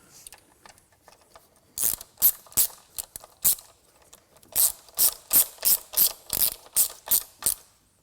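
A hand ratchet tightens EGR valve bolts on a Land Rover Discovery 3, giving sharp, close clicking in a few scattered strokes and then a steady run of about ten evenly spaced clicks.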